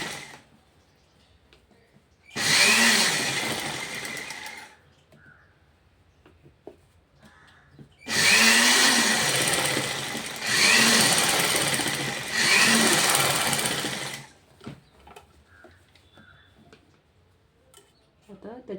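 An electric sewing machine stitches a prince cut blouse in two bursts, a short run and then a longer one with brief pauses, loud and close, with quiet gaps between the runs.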